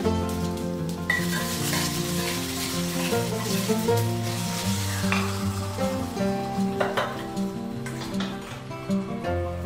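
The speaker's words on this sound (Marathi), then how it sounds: "आता याच्यात आपण घालायचं आहे कमी पत्ता आणि छान खमंग फोडणी आपण ना इडलीच्या मिश्रणावर ठेवायचं" Hot tempering with curry leaves sizzling as it is poured into idli batter: a steady close crackle and hiss with light stirring and clinks, under a sustained tonal background.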